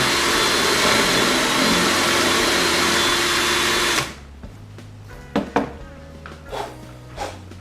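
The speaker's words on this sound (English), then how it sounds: "I'm gonna drill down just as far" A steady loud whine of a power drill boring a hole for a threaded E-Z Lok insert in a 4WD drawer runs for about four seconds, then stops, followed by a few knocks and light clatter.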